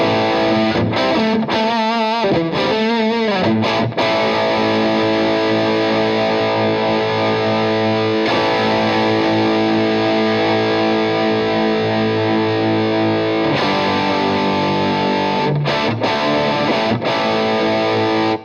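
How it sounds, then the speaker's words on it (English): Electric guitar played through a mini amp set for a hot-rodded British tone, loud and distorted, with chords and riffs ringing continuously and no talking. "you can definitely hear those sort of British kind of tones that you associate with it, the hot-rodded kind of British amp"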